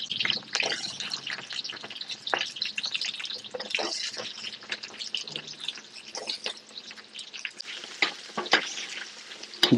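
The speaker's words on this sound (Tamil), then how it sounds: "இப்போ எண்ணெய் காஞ்சிருச்சு உரிச்சு வச்சிருக்க சின்ன வெங்காயத்தை போடுறோம்" Peeled shallots frying in a generous amount of hot oil for a Chettinad-style prawn thokku, a dense continuous sizzle with intermittent stirring and scraping of a utensil throughout.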